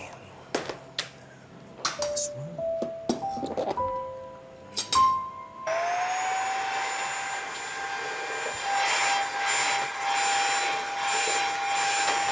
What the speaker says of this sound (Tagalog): Doon ka nga sa kabila mag-vacuum.